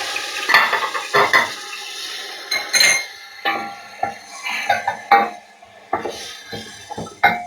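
Chicken tipped into hot oil in a karahi for a dhaba-style Shinwari chicken karahi, with close, repeated clanks of a metal utensil against the pan over a light sizzle.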